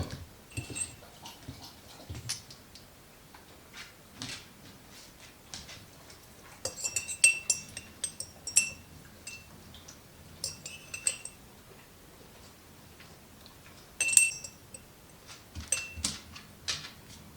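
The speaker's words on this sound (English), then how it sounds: "I'm gonna grab a fork and I'm just gonna put a few beans in each jar" A metal fork clinks repeatedly against glass jars as vanilla beans are dropped in for homemade extract, bright scattered taps and chinks at close range with quiet pauses between them.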